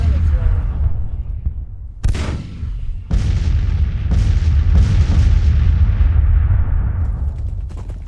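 Cannon artillery fire booms repeatedly in a Grand Tactician: The Civil War battle, several loud blasts with rumbling decay layered over continuous battle noise, with a voice talking underneath.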